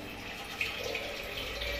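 Water pours steadily onto raw basmati rice in a pot, a soft, close splashing trickle that runs continuously for a couple of seconds without talk.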